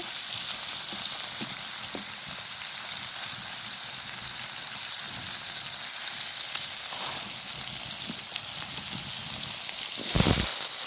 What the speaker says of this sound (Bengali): আলুগুলো আলাদা একটা করার মধ্যে ভাইজা নিতেছি